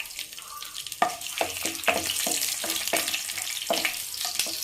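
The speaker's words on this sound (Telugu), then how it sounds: "తాలింపు గింజలు వద్దని ఎండుమిరపకాయలు వేసుకుందాం." Dried red chillies sizzle and crackle in hot oil in a pan of tempering for a tamarind-leaf chutney, with sharp repeated pops and spits over a steady fry.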